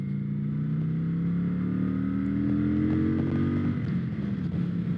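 Kawasaki Vulcan 900 Classic motorcycle engine pulling steadily under load with rising tone, then easing as it shifts up a gear, close and continuous throughout.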